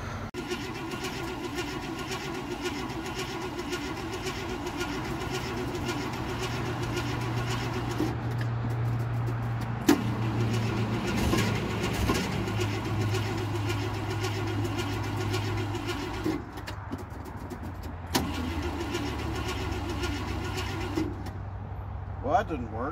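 An old, neglected car engine cranks repeatedly and struggles to catch, a rough continuous churning with uneven surges, while people talk over it.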